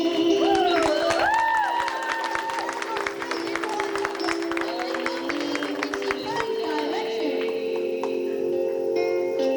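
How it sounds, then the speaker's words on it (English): Applause from a large arena crowd at a show where a dancer representing Ireland performs, sustained and fairly distant, mixed with crowd noise and rhythmic footwork sounds under a commentator's voice. "Listen to that applause."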